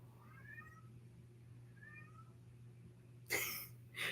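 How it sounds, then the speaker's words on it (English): A small cat meows loudly several times in short rising cries, close by in a quiet room, with a sharper louder burst near the end. "For such a small cat, he is so loud."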